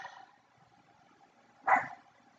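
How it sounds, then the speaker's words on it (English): Dog barking indoors, one faint bark at the start and a single sharper bark near the end, with quiet between. "My dog is barking."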